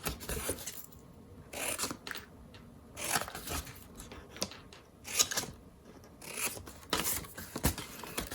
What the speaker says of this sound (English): So I'm going to trim these tabs just a little.